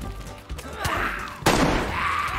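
Gunfire in a multiplayer shooter, several sharp shots and thuds with one loud crack in the middle, mixed with game noise and background clatter.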